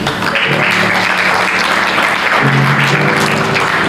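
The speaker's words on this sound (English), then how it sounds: "you can give yourself an applause there" Loud, dense applause from a large crowd, steady throughout, with some faint sustained tones underneath.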